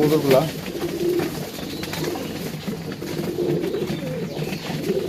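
Racing pigeons coo steadily in a storm-damaged loft, a continuous murmur of soft overlapping calls with a voice talking over them.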